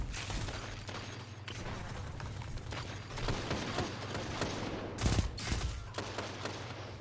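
Gunfire in Destiny 2 PvP on Xbox, a dense run of rapid mechanical shots and clatter at moderate level, with a sharper burst near the five-second mark.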